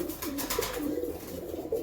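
Male pigeons kept for flying coo steadily at close range, low rolling calls overlapping in a continuous murmur.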